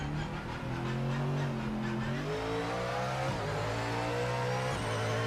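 A race car engine in Project Motor Racing, likened to a Mazda RX-7, drones steadily and loudly throughout, its pitch stepping up and down through gear changes with a continuous buzzy roar.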